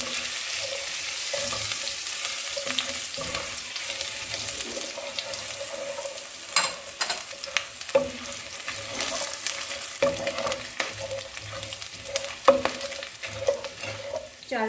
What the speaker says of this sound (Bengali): জিরেটা আমি হালকা ভাজবো, খুব বেশি ভাজবো না।